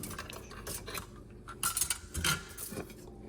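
Small homemade capsules tumble into a little bowl with a quick scatter of light clicks and ticks, a couple of brighter rattling bursts in the middle, close and fairly quiet, with no talking.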